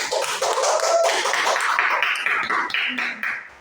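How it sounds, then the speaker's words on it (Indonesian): A tenth-grade class claps hands together at the end of a chemistry lesson, a close, busy patter of claps with a brief voice in the mix, tapering off at the close. "tepuk tangan dulu semuanya"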